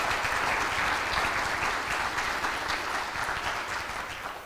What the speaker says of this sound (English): they deserve an applause and recognition because they're here in the room with us